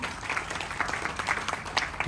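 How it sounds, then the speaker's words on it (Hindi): Applause from an audience in a hall at a direct-selling leadership training event: a short burst of dense, moderately loud clapping from many hands, continuous without speech. "ASO अनिल कुमार जी, प्लीज जोरदार तालियां"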